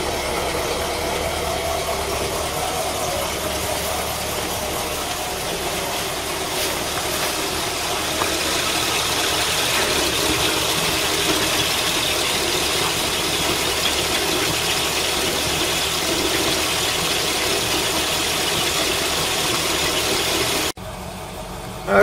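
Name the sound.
V8 engine running on LPG, misfiring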